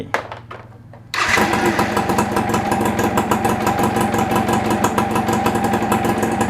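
A motorcycle fitted with a lithium iron phosphate (LiFePO4) battery cranks and starts after a second of quiet, then settles into a loud, steady running engine close by.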